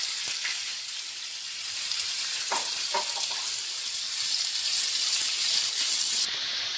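Marinated chicken sizzles steadily in a hot pan with a bright, hissing fry, a few soft clinks partway through, and no voices.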